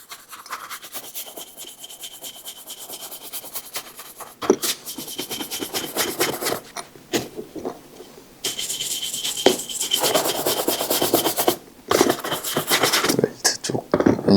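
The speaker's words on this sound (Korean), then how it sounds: "그 다음에 브러쉬질을 한 번 더 이번엔 웰트 쪽으로 작업을 진행을 해줍니다." Brisk brush strokes sweep over a men's leather shoe toward the welt during shoe care, coming in close, dry rasping bursts separated by short pauses.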